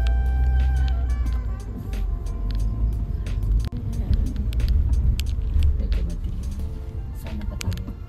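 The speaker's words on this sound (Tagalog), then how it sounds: "At dami din pakalat-kalat ng mga kotse." Cars drive around nearby, giving a steady low engine rumble and road noise that swells and fades without a break, with some faint sharper clicks on top.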